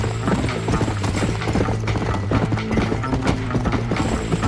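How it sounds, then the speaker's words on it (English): A horse in the video game Red Dead Redemption moves at a steady clip-clop, hooves beating rhythmically and loud amid dense game sound and tack rattle. "Horse, move forward."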